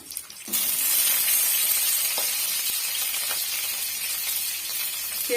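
Ginger and green chillies fry in a pan over medium heat for pudina pulao, a loud steady sizzle that starts abruptly and continues alone with faint stirring clicks.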